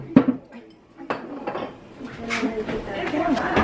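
A utensil scrapes and clinks against a pan while spaghetti sauce for a Filipino-style spaghetti is mixed, a few sharp metallic knocks followed by softer scraping and stirring, close and fairly loud.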